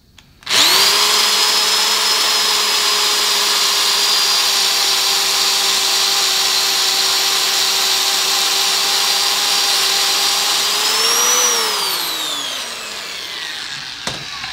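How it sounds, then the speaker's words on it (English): A drill slowed by a speed reducer drives a knurling tool through an engine valve guide, giving a loud, steady whine that runs unbroken for about eleven seconds, then winds down as the tool spins out. "If you don't have a speed reducer, you can just buy the knurler and then just slow down your drill."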